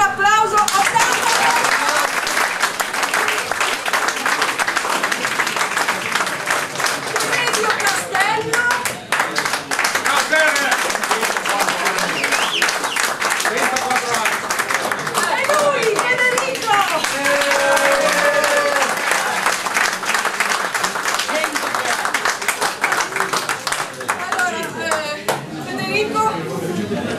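Audience applauding trallalero singers at a San Biagio performance: sustained dense clapping with cheers and chatter, loud and close, continuing for the whole stretch.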